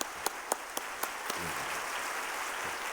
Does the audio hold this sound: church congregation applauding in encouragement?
yes